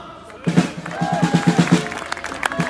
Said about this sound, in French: Je vous demande d'applaudir Sylvain.